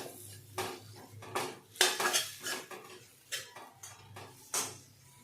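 A spoon stirs masala with moth beans and potatoes in a cooking pan, making irregular metallic clinks and scrapes against the pan at close range with soft gaps between strokes. No voices.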